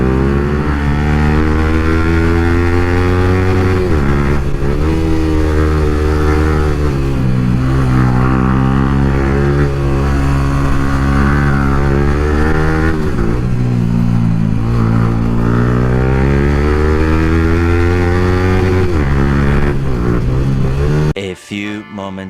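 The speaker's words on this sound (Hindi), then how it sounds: "अब गौरव भाई व्हीली मारेंगे इधर" A Yamaha R15 V4M motorcycle engine revs hard and continuously for a wheelie, its pitch surging and dipping repeatedly. It is loud and close, and the engine drone carries almost the whole clip before cutting off abruptly near the end.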